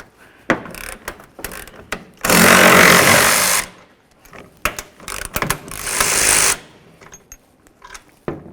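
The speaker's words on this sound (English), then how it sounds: "you're going to see a 10mm headed bolt, and then of course there'll be another one located at the top of the lens" Ratchet and power-tool whirring as 10mm headed bolts come out of a 2005-15 Toyota Tacoma taillight, loud close bursts of buzzing between scattered clicks and handling knocks.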